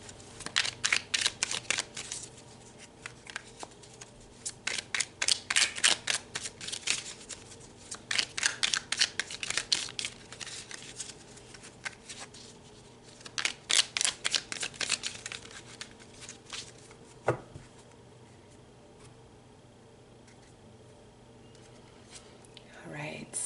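Tarot cards being shuffled in repeated bursts of rapid riffling and flicking, close and crisp, pausing between rounds, with a single card drawn near the end.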